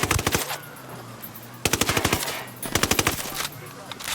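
Machine gun fire in the video game Ghost Recon Wildlands: three loud, rapid automatic bursts, each a dense string of sharp shots, separated by short pauses.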